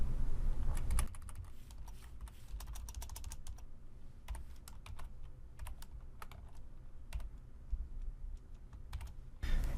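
Someone types a regular expression on a computer keyboard, giving a steady patter of close key clicks in irregular bursts for about ten seconds, with no voices.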